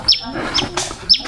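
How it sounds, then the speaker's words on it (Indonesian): Wild birds chirping along a mountain hiking trail on Gunung Gede, several short, high, close chirps and tweets spread across a brief moment over quiet background. "Mantap suara burung."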